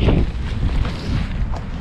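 Strong wind gusting to about 35 knots roars and buffets the microphone in a steady, rumbling rush with slight gusty swells, no voices.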